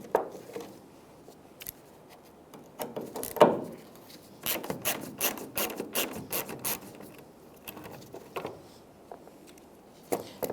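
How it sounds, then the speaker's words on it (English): Torx T25 screws being backed out of a tail light assembly on a 1994-2001 Dodge Ram 1500, a string of close, dry ratcheting clicks and squeaky turns in irregular bursts, with short pauses between them. "So with a Torx bit, that's the star. I'm going to take these off,"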